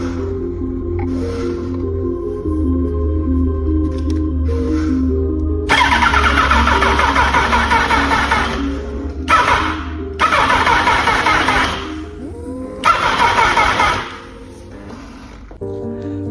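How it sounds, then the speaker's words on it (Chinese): Starter motor cranking on a motorcycle left standing for two years and fed from a borrowed battery, with several loud bursts of whirring that start quickly and then drag slower, separated by short pauses under a steady low hum. "通上电之后，启动机由快到慢"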